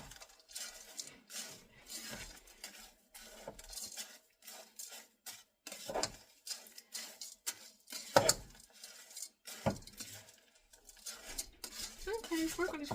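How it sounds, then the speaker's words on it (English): Spatula or spoon stirring and scraping chunky meal-prep food around a pan, a steady run of close scrapes and clinks with brief louder knocks against the pan and faint sizzling underneath. "I'm just going to keep stirring it around"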